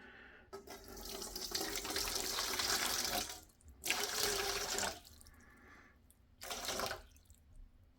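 Water runs from a tap into a bowl in three separate bursts, the first long and the last two shorter, with quiet pauses between them while water is measured out for sourdough bread dough.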